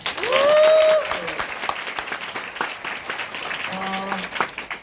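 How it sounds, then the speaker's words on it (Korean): Applause from an audience at a Korean marketing leadership morning lecture, steady clapping across the whole stretch with voices and cheers breaking through over it. "스스로에게 박수 한번 쳐볼게요"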